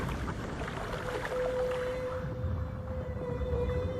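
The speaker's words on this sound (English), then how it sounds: "the whales dive beneath a school of herring, emitting high-pitched calls" A long, steady high-pitched whale call rings out for several seconds over a low, rumbling underwater background, with a few faint shorter calls near the end.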